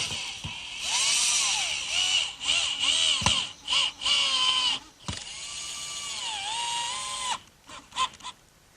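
Short bursts of a drill boring pilot holes into hard oak, whirring pitches that rise and dip as the bit bites, broken by brief pauses and clicks, close by.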